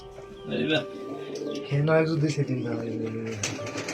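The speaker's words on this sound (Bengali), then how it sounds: "এই সাদা কবুতর।" White pigeons kept in a loft with a pair nesting on eggs coo in soft, repeated throaty phrases close by, mixed with a voice speaking over them.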